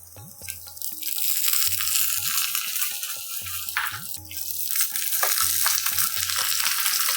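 Green chilies and curry leaves crackle and sizzle loudly in hot coconut oil for a traditional Tamil coconut milk rasam, a steady close frying hiss with no voices.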